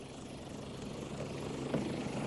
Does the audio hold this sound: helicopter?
yes